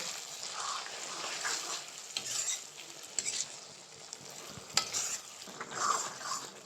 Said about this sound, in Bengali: সব কিছু দিয়ে দেওয়ার পরে এবার একটু ভালো করে নাড়িয়ে নেব